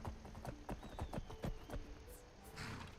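Horse hooves in a video game clop at a steady walking rhythm, about a dozen crisp strikes on hard ground, close and fairly quiet with a faint whinny near the end.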